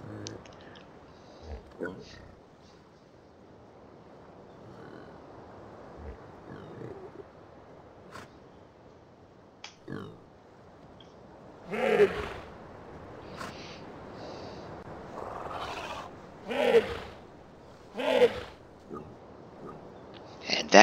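Sunner creatures in the 1997 PC game Riven give grunting, snorting calls in scattered bursts over a quiet ambient bed, growing louder and more frequent toward the end, with someone talking quietly between them.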